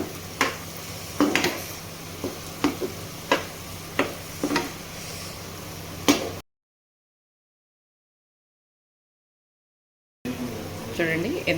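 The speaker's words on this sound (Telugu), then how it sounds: "5 మినిట్స్ తర్వాత మూత ఓపెన్ చేసి కర్రీని ఒకసారి కలుపుకోవడమే" A bottle gourd (sorakaya) curry is stirred in a pan, giving a run of sharp, evenly spaced scrapes and clacks over a low steady hum, then a pause before more stirring.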